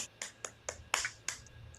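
A single person's hands clap six times at an uneven, moderate pace over a quiet, low hum, each clap sharp and close.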